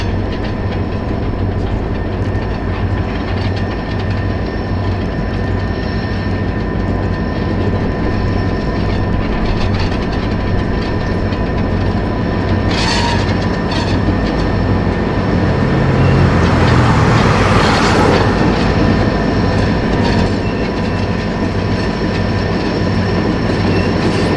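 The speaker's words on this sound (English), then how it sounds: "Coming in off of the Peoria sub is Rail America's Toledo, Peoria, and Western" Rail America's Toledo, Peoria and Western freight train rolls in off the Peoria sub at Galesburg, a loud continuous rumble of locomotive and rolling cars with rhythmic wheel clatter and a rising squeal of wheels midway.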